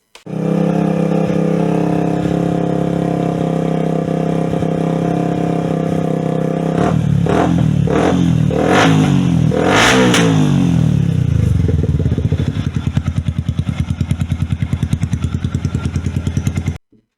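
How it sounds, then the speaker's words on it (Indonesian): A Yamaha Vixion modified in MT25 style, fitted with a racing exhaust, idles with a deep, steady burble, then revs sharply in several quick bursts before settling back to a rapid, rattling idle. "pakai knalpot racing"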